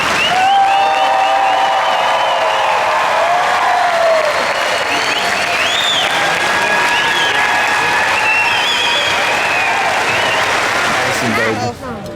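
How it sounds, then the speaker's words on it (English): A large crowd applauds steadily for several seconds, with scattered cheers and whoops mixed into the sustained clapping. "Let's applaud the most recent alumni."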